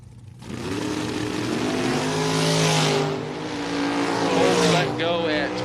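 A Camaro and a dragster launch off the line in a handicap drag race, the engines roaring loud and sustained with rising revs, a tire squeal near the end, and a commentator talking over it.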